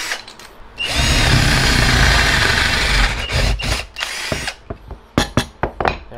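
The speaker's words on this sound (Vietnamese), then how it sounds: "bây giờ mình sẽ thử khoan trên miếng gỗ này ha" Ingco 18V cordless drill boring into a piece of wood, a loud steady motor whine with a 5 mm bit for about two seconds, then spinning down into several short trigger bursts.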